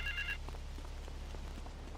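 A payphone in the video game GTA III rings with a short electronic trill at the start, over a steady low hum and faint ambient game sounds.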